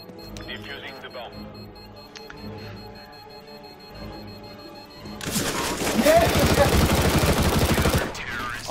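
Rapid bursts of automatic gunfire from Counter-Strike: Global Offensive, a dense loud fusillade erupting partway through and running several seconds over game noise and voices talking.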